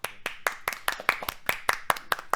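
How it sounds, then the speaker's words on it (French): Sparse clapping from a small audience cheering on a team that reached the final for a best-newcomer prize, about a dozen distinct claps in a loose, uneven rhythm, close and moderately loud with no voices. "Applaudissez, wesh"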